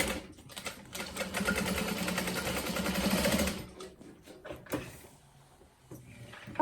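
A sewing machine runs in a steady back-and-forth stitch for a few seconds, then stops and is followed by lighter handling clicks, fairly close and moderately quiet.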